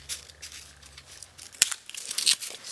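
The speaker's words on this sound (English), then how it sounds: "So, at this point, you can go ahead and cut this in half." Scissors cutting a piece of black felt in half for a craft project, heard as close, soft snipping and rustling strokes in a short sequence, with a sharper cut near the middle.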